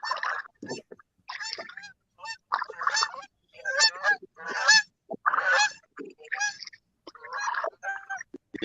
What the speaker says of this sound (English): Again, it's just time for geese.